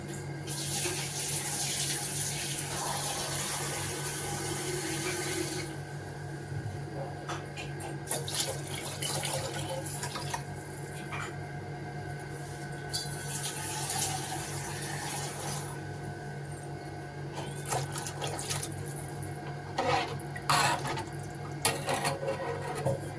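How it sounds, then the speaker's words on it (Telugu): Water pours into tamarind juice and tomatoes in a cooking pot, a steady, continuous splashing and running flow that lasts throughout at a moderate, close level with slight surges near the end. "చింతపండు రసము టమోటాలు పోసేసి వాటర్ కలుపుకుంటాం"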